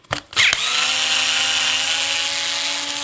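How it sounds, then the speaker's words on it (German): A small cordless screwdriver loosens a wheel screw on an RC 8x8 truck: a couple of brief bursts, then a steady, close, whirring motor drone lasting several seconds, with no voices. "Reifen lösen tue ich hier mit so einem kleinen Akkuschrauber."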